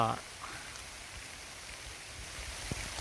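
Rain falls outdoors as a soft, even hiss of drops, with a brief voice at the start and a few faint knocks underneath.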